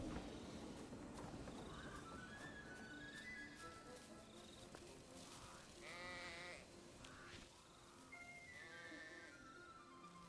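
Sheep bleat in AFK Journey, several wavering calls spread across the scene, fairly quiet and set against other soft game sounds and tones.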